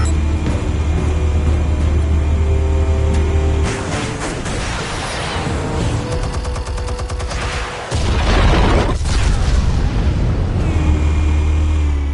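Explosive charges detonating in a Batman video game, with a low rumble under dense clattering debris and blasts around four and eight seconds, all over a steady game drone.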